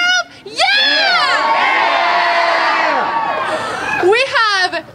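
A large outdoor crowd of youth and adults at a press conference roars and shouts "yeah" over and over, loud and sustained for several seconds, with a fresh burst of shouting near the end.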